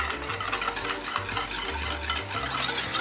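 A spoon stirs a coconut milk and sugar mixture with a pinch of salt in a pot for a steamed pandan custard dessert, a steady soft scraping and swishing, close and continuous, with no talking.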